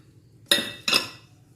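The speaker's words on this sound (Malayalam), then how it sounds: "ഇനി നമുക്ക് വേറൊരു പാത്രം എടുത്തിട്ട് ആ പാത്രത്തിലേക്ക് നമ്മളിത് അരിഞ്ഞിട്ടത് ഇട്ട് കൊടുക്കാം" Chopped ingredients for an egg, potato and maida snack are tipped into a second bowl, giving two sharp, close clinks of utensil against dish about a third of a second apart, each ringing briefly before fading.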